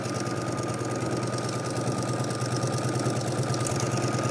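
Sewing machine stitching a cushion seam, running in a continuous fast, even mechanical whir with a rapid rhythmic clatter, close and steady from start to finish.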